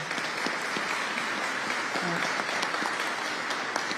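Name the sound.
audience applause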